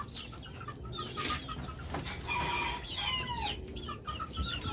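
Backyard chickens, raised from chicks, cluck and call close by in a scattered, overlapping chorus, with a brief crow-like cry among them and no voices.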